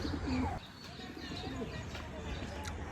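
A wild pigeon gives a few soft, low coos nearby against a quiet outdoor background.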